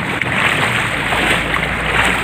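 Floodwater at the Blandong traffic light in Comal, a continuous broadband rush and slosh of moving water close by, steady and fairly loud, with no speech.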